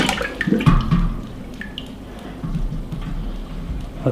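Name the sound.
water draining from brewing pot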